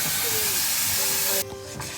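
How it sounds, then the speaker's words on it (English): A river boat's steam engine on the Glenelg River hisses loudly and steadily as pressure builds, then the hiss cuts off abruptly, leaving quieter mechanical sounds. "the engine looks like it's coming to life here. The pressure's obviously built up enough."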